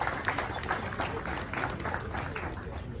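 Audience applause for student executives at an anniversary durbar celebration, moderate clapping mixed with crowd murmur and some voices throughout.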